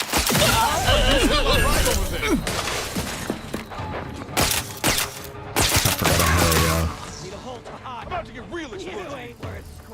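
A grenade goes off during a firefight in The Outer Worlds 2, with heavy booming blasts and clattering gunfire bursts crowding the mix, while someone talks over the action.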